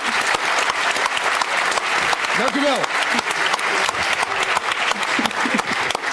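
A live audience gives warm, sustained applause for a jury member, dense clapping filling the room while a voice speaks briefly over it.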